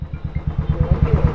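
A motorcycle engine runs close by, arriving at a wedding venue, with a loud, rapid, even thumping pulse through the whole short moment and no speech over it.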